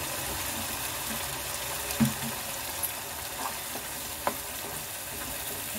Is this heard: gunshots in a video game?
no